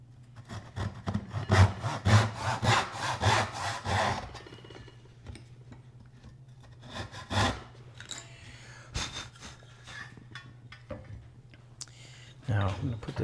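A hand saw cuts a wooden tenon for a through-wedged mortise and tenon joint, giving a quick run of loud rhythmic back-and-forth strokes early on, then quieter scattered rasping and knocks with a low hum underneath.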